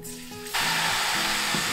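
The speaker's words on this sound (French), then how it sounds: "Et on va venir verser notre bouillon de bœuf." Beef broth poured into a hot roux in a pan hits with a sudden loud rush, a broad sizzling hiss that stays steady and dense after starting abruptly.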